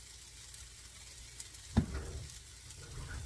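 Hash browns frying in oil in a pan with pepper and garlic, a soft steady sizzle marked by light scrapes of stirring and one sharper thump partway through, close and without talk.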